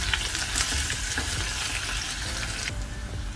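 Potatoes fry and sizzle steadily in a pan while being stirred for spiced potato rice, a constant close crackle with scraping stir sounds throughout and no talk.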